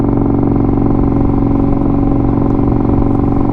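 An Indian Scout Bobber motorcycle rumbles loudly and steadily while riding, a close, continuous throb of engine pulses and road noise with no break.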